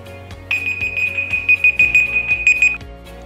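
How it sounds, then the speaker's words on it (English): A smartphone assistant's timer alarm rings as a bright, steady electronic tone for about two seconds, loud and close, with faint tapping beneath it. "Set a timer for 3 seconds."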